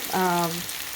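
Chicken and three whole red chillies frying together in a pan for a methi chicken curry, a soft, close sizzle running under a brief, steady tonal hum for about a second.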